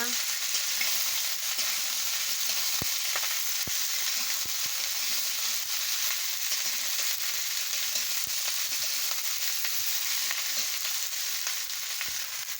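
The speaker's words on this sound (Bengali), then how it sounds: "সবজিগুলোকে ভালো করে নাড়িয়ে নিচ্ছি" Cauliflower stems and eggplant stir-fried in a pan after onions, a steady broad sizzle running throughout with sparse sharp clicks and scrapes from stirring, close and without talk.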